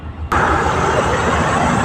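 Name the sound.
LLI bus engine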